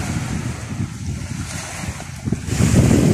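Sea waves wash against the shore in a steady rush, mixed with wind buffeting the microphone, the surge growing louder and fuller toward the end, with no talking.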